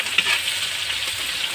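Garlic and onion sauté in a hot pan with a steady, close sizzle of frying and a brief stir near the start.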